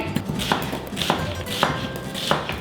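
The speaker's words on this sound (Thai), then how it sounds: "ผมก็หั่นหอมแล้วกัน หั่นเป็นแว่น" A knife slices shallots into rings on a cutting board, each cut landing as a crisp, clear chop in a slow, steady rhythm of about two per second, close and distinct with no talking.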